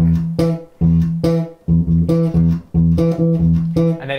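Bass guitar playing the octave-jumping line from a song, a steady pulsing riff of short repeated notes alternating low and high, loud and close with no talking.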